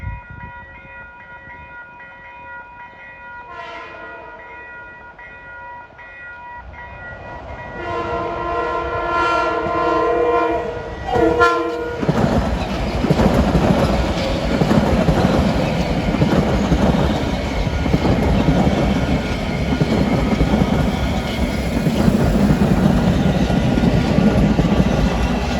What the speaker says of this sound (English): Train of Bombardier M7As.